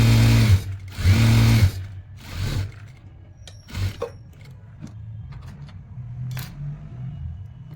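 Sewing machine stitching a winter shirt along a fitting mark, with two loud sustained motor bursts at the start, a shorter run, then quieter intermittent mechanical clicks and taps from handling.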